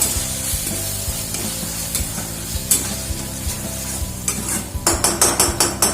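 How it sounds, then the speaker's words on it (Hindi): Soy sauce and chilli sauce being stirred in a pan over a low flame for restaurant-style chilli paneer: steady sizzling with irregular scraping strokes, ending in a quick run of sharper spoon taps. "गैस रो फ्लेम को पूरा लो कर दबा। भल भाबे मिसई दबा।"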